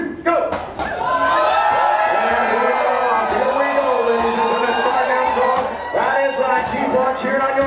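A crowd at a lumberjack chopping contest on an Alaska cruise cheers loudly and steadily, with whoops and thudding axe blows cutting through the roar.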